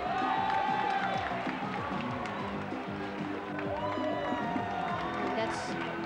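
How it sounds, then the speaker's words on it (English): A large arena crowd at the 1995 World Taekwondo Championships in Manila cheers and whoops loudly and without a break, with rising shouts and clapping throughout. "You can hear the crowd cheering"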